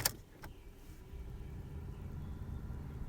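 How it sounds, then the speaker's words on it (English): A Ford Focus 1.6 diesel's ignition key is turned on: a couple of sharp, close clicks, then a low, steady electrical hum that builds slightly and holds, with no engine running and no talk. "turn the ignition key on"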